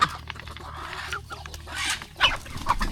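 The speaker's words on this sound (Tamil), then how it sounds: "இந்த இடைவிட்டு சேவலை பார்த்திங்கன்னா" Idaivittu breed rooster and chickens clucking on a farm in the morning, a busy scatter of short clucks and calls near and far, with a sharper pair of calls late on over steady low background hum.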